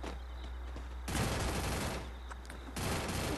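M4A1 rifle fire in Free Fire arrives in rapid automatic bursts, two loud stretches of quick repeated shots separated by a quieter gap, heard fairly close.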